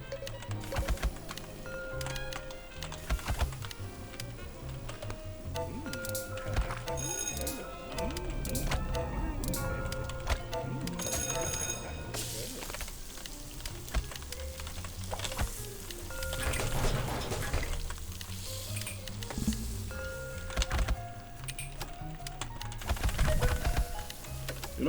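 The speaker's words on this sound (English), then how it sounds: "Is my keyboard too loud? Please let me know, and I can switch keyboards." Loud computer keyboard typing runs in quick irregular bursts through the whole stretch, mixed with game sounds and a voice talking over it during a Cook, Serve, Delicious! 2 session.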